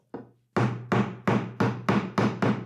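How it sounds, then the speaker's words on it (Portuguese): A hammer taps staples into the wooden frame of an acoustic panel: one light knock, then seven sharp, evenly spaced blows, close and distinct with no talk. "Se o grampo ele não entrar bem, ó, você pode dar uma batidinha com o martelo"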